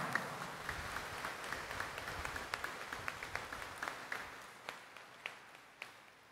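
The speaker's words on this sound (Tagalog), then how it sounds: "Ibigay natin sa Kanya ang ating pinakamalakas na palakpak." A church congregation claps during a televised Mass at Quiapo Church, honoring the Nuestro Padre Jesus Nazareno. The applause is soft and spread out, with scattered sharp claps standing out, and it thins toward the end.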